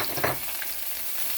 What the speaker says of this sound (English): while the burger is going, I'm gonna drop some fries